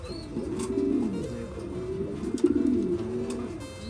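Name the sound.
Belgian racer pigeons cooing at a pigeon farm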